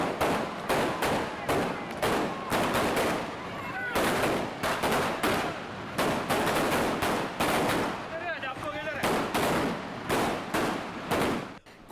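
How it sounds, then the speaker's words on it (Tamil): Supporters set off firecrackers on Galle Road in Moratuwa after a cooperative society election win, a dense, loud, rapid crackle of bangs in fast bursts with brief gaps, voices heard faintly underneath. "அவர்கள் தமது வெற்றியை அடுத்து பட்டாசு கொளுத்தினர்"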